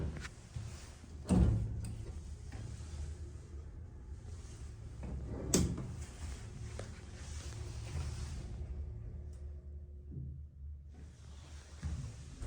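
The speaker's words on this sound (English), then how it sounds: "Door closes when you press the" A Dover hydraulic elevator door in an office building slides shut with a thump, followed by a second heavier bang, then low machinery hum and quiet rumble continue with no talk.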